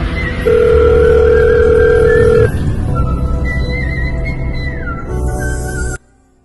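A phone call placed through Siri, with a loud steady ringback tone followed by wavering electronic ringing that cuts off abruptly near the end.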